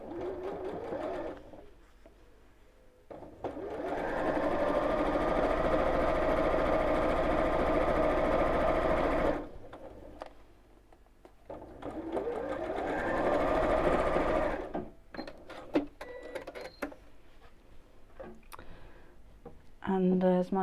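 Sewing machine stitching a seam down a Card Trick quilt block, running in two long steady bursts with quiet pauses and handling noises between, close and clear.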